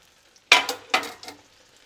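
Eye round steak, already fully cooked, hits a hot pan on the stove with a sudden loud sizzle, then two more short bursts of searing spit and hiss before fading to quiet.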